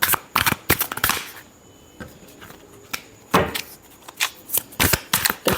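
Tarot cards being shuffled by hand up close, a run of quick riffling bursts and soft slaps repeating in uneven clusters, with brief pauses between and no talk over them.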